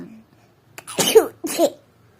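A sick child with a cold and fever gives two short, harsh coughs in quick succession, close and fairly loud, with quiet moments before and after.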